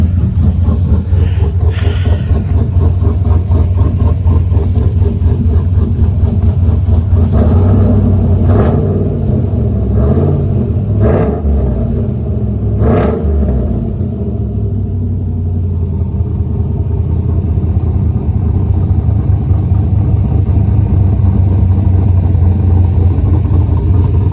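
A big 6.2 V8 engine with an aggressive, untuned cam idles loud and close with a lumpy, choppy, misfiring rumble, a few sharper revs breaking through before it settles back to a steady throb.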